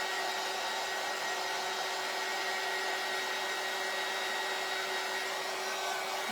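A hair dryer blows a loud, continuous roar of air while drying freshly glittered Christmas ornaments, steady and unbroken throughout with no talking.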